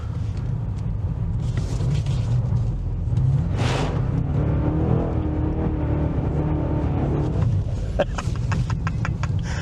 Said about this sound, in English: Let's go and finish off by doing one more skid.